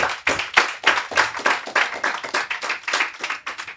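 Students of the Aspire programme at a banking ceremony receive a burst of applause, with dense clapping from a crowd filling the whole stretch and no voices on top.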